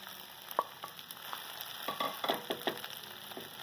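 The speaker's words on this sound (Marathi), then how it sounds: "साबुदाणा सगळा मिक्स करते।" Soaked sabudana and cooked potatoes are stirred in a kadhai, with soft scraping strokes of a spoon against the pan and a light sizzle underneath, a handful of close, quiet clinks.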